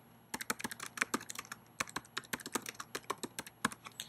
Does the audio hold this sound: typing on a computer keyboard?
yes